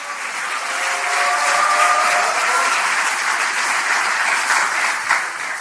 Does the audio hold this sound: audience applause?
yes